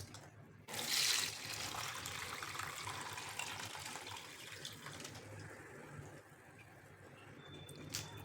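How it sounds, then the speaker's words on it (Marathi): Soaking water is drained off rice in a steady trickling pour after a short initial splash, moderately close and continuing under a low hum, with no one talking. "आता आपल्याला हे पाणी काढून घ्यायचं आहे."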